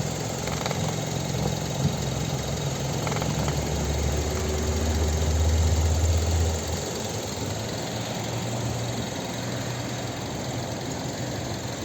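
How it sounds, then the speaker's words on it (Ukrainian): A 2009 Mazda 6 two-litre petrol engine idling steadily close by, a continuous low hum and rumble with a faint mechanical whine, no voices. "Ось робота справжнього, справного, меганадійного двохлітрового двигунчика від Мазди"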